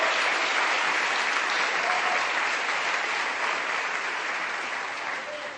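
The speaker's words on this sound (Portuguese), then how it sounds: "Um aplauso ao Senhor." Sustained applause from a church congregation, loud and steady throughout, with a dense wash of clapping that tapers off slightly toward the end.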